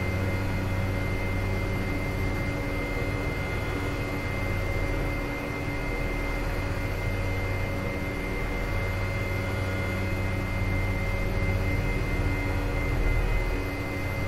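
An airliner landing at Istanbul Airport in a flight simulator game, a steady loud roar of jet engine and airflow noise with constant droning tones, unchanging for the whole stretch and without speech.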